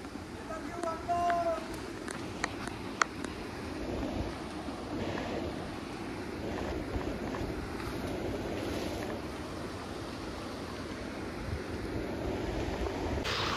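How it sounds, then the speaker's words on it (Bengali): Rushing river water flows fast and continuously in an outdoor setting, with a broad steady wash and wind buffeting the microphone, while people talk over it throughout. "জলের স্রোতের স্পিডটা দেখা একবার"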